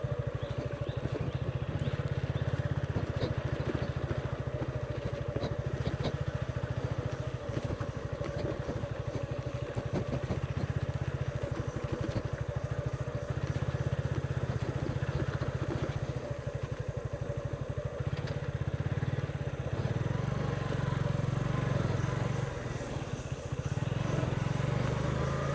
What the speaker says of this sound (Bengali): আমি মোটরসাইকেল ড্রাইভিং করে সুরমা নদীর কিনার পর্যন্ত চলে এসেছি।